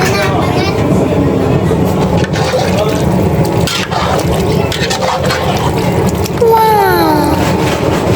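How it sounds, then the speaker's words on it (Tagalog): Water poured into a pot of mung bean soup with chicken, a steady liquid rush filling the clip under ongoing background noise, with a brief rising tone near the end. "At lagyan na po natin ng tubig."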